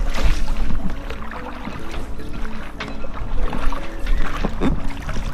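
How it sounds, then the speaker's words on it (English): A small dinghy moves through a marina, a continuous rushing wash of water against the hull with a low steady hum throughout. "We're on our dinghy."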